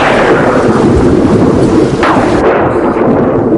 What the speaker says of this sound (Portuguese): está chovendo lá fora, seu relâmpago está roncando